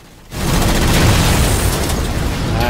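A rocket explosion in Halo 4 co-op play, a sudden loud blast that bursts in after a short quiet and rumbles on heavily as the boom decays.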